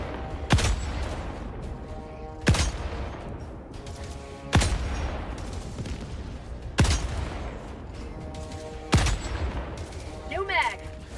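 Rhythmic bursts of gunfire in the video game Helldivers 2, five loud shot volleys spaced about two seconds apart, each with a booming low tail over a steady background din.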